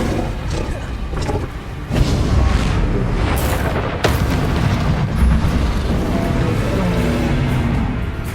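Spell effects from the Hogwarts Legacy video game during combat in the San Bakar Trial: loud, dense booms and magical blasts, with sharp bursts near two and four seconds over a continuous rumbling wash.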